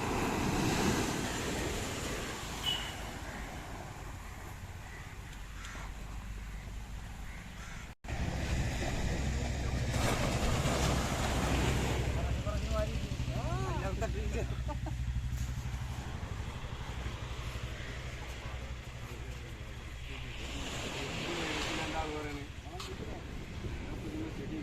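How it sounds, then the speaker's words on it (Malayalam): Strong sea waves crashing on a shore where fishing boats are pulled up, a continuous roaring surf with surges and wind, people talking over it and crows cawing now and then. "കിഡിലെ തെരയാണ് അടിക്കുന്നത്."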